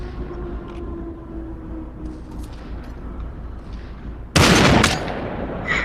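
Gunfire in the VR shooter Population: ONE, a sudden loud burst of shots near the end after a quieter stretch of game ambience.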